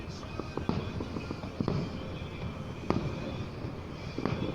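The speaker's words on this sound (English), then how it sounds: "the title of this video is specifically 4th of July Fireworks at Miami Beach" Fourth of July fireworks at Miami Beach, Florida, heard from a distance: scattered pops and sharp cracks over a constant rumbling crowd-and-wind background.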